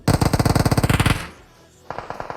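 Rapid automatic gunfire rattles out loud and close in a competitive multiplayer shooter match, a steady burst of about twenty shots that stops abruptly, followed by a brief lull and fresh shots starting up.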